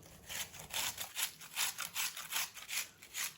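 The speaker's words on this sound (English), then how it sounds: "take your medium-sized onion and grate the whole thing" Medium-sized onion rubbed on a grater while preparing chiftele: close, rhythmic raspy strokes, about a dozen evenly spaced scrapes, quiet and alone.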